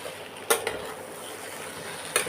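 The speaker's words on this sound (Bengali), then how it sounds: "এবার ভালো করে নাড়াচাড়া করে নেব" Shrimp and taro stolons are stirred in a pan, with a soft continuous sizzle and two sharp spoon-against-pan scrapes and clinks, close and fairly quiet.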